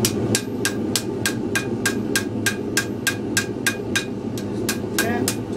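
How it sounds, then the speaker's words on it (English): Light hammer taps repeat at a steady, even pace, about three per second, crisp and close over a low background hum. "We're going to move back to the lighter hammer."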